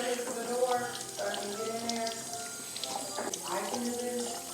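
Low-pressure tap water runs gently into a kitchen sink, rinsing the cure off homemade bacon; a steady, soft, splash-free stream continues throughout with a voice over it.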